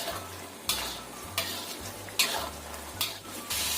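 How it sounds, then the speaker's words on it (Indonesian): A spoon scrapes and stirs a thickening sauce with sesame oil in a hot frying pan, with a few louder strokes against the metal over a steady sizzle. "Aduk sampai mengental."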